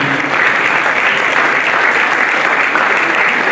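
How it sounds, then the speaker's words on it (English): A conference audience fills the hall with dense, sustained applause, loud and even from start to finish, many hands clapping at once with no pause. "Keep clapping for them as they're coming"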